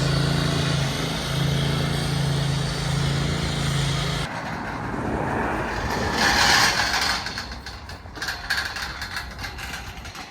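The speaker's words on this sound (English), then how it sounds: "we're now cutting a third depth into the concrete" A concrete saw cuts expansion joints about a third deep into a new concrete yard, its motor grinding steadily, then the pitch shifts and the cutting fades and sputters toward the end.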